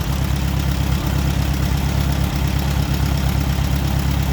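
Tractor engine idling steadily after a radiator install, a continuous close low rumble with no talking.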